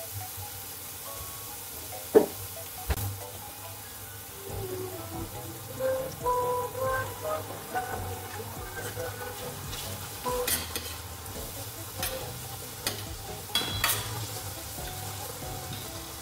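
Butter sizzling in a frying pan as it is stirred, a steady close frying hiss with scraping stir strokes and a sharp clack of utensil on pan.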